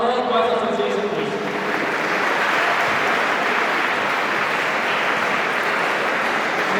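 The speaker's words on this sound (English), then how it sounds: "A big round of applause for the whole Boys Association, please." Audience applause at a school inter-school English debate competition event, a continuous wash of clapping that holds steady at moderate loudness, with a voice speaking over it at the start.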